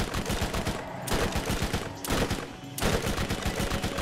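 Rapid gunfire from a weak gun in Borderlands, a dense automatic stream of shots in three bursts separated by brief pauses, loud and close.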